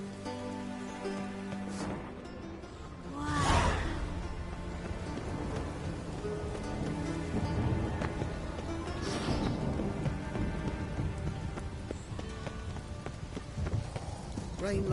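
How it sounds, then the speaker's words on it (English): Rain falls steadily in the Witcher 3 video game, with a faint rumble of thunder mixed into the wash and a few brief louder swells along the way. "Rain like this would fetch a fortune in Zerrikania"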